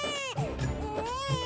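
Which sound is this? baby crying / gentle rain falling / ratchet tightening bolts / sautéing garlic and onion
baby crying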